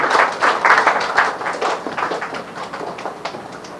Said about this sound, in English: So let us give ourselves a round of applause for being mature.